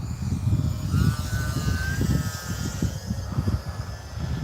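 E-flite UMX Turbo Timber RC airplane flying in the evening, a thin buzzing electric motor whine drifting overhead against rumbling wind and outdoor background noise.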